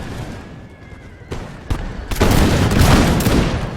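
Musket volley fire in the Imperial Splendour mod of the Total War strategy game, with Russian troops battling in Poland: scattered shots, then a dense, sustained crackling fusillade of overlapping reports, with a horse whinnying faintly early on.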